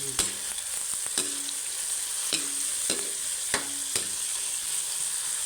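Fish fries and sizzles in a pan as a Filipino dish cooks, with a steady hiss and repeated sharp clatters of stirring and scraping spaced a second or so apart.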